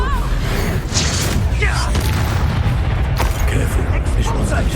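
Loud, dense booms and blasts from Confringo and Expulso spells in Hogwarts Legacy, several heavy impacts in quick succession over a rumbling battle din, with voices shouting in between.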